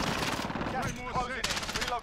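Gunfire in Call of Duty Warzone: rapid automatic shots rattle close and loud, pausing briefly before another burst, with a voice talking over the shooting.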